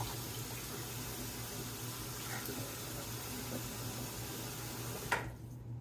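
A bathroom sink tap runs steadily for wetting the face before a shave, giving a soft continuous water stream with a few small splashes, then cutting off sharply near the end.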